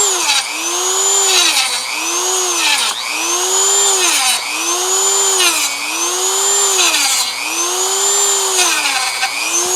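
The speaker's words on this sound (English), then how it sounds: "You'll break your cutoff wheel" A cutoff wheel slices into a Mitsubishi Pajero transfer case unit, giving a loud, high whine that swoops up and down in repeated passes about every second and a half, close and alone.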